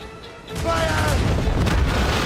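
Ship cannon fire in Assassin's Creed Rogue: after a quiet moment, a heavy boom swells into a deep, rolling rumble that stays loud to the end.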